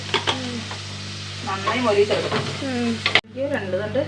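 Beef sizzles in a pan as it is stirred and browned for a Kerala-style curry, with a constant frying hiss and scraping stirs, and a voice talking over it.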